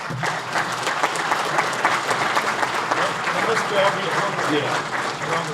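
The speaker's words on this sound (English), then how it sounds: "Let's give them a round of applause." Sustained audience applause fills a fire and rescue awards and recognition ceremony as honored retirees are acknowledged, a dense steady wash of many hands with a few voices mixed in.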